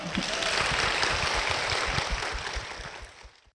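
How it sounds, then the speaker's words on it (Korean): A crowd claps steadily, a dense wash of applause that gradually fades out at the end. "박수로 모시겠습니다"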